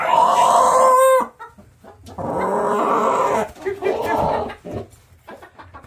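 A young, very large rooster calls out in a loud, clucking burst at close range, followed by people talking.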